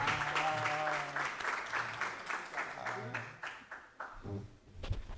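An audience at an education conference gives a sustained round of clapping for the lecturer, steady and fairly full for about five seconds, with voices and some tonal sound mixed in beneath the applause.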